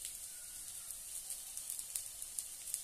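Bread slices fry in a little oil in a pan, making a faint, steady sizzle with tiny crackles and pops and no voices.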